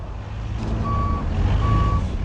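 A truck backs up on a worksite, its engine rumbling steadily while a reversing alarm sounds two clear, evenly spaced beeps. The alarm is loud and close.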